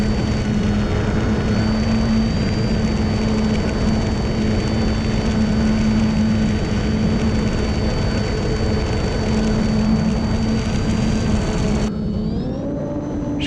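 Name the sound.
RC airplane flying at full throttle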